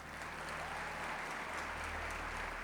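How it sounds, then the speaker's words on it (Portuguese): Faint, distant audience applause in a church service hall, a steady, even patter of many hands heard through a roomy wash with a low hum underneath. "Vamos aplaudir aí, que no ao vivo é assim."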